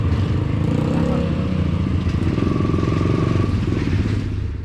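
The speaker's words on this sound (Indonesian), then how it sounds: "Narik motor di jalanan gravel bebatuan, nanjak, turun." A motorcycle engine chugs and labours steadily while the bike is dragged over a rocky gravel trail, with close, continuous mechanical clatter and a faint voice mixed in.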